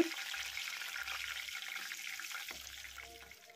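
Dried red chillies and curry leaves fry in hot oil, giving a steady crackling sizzle with faint low thumps of stirring, close by and alone.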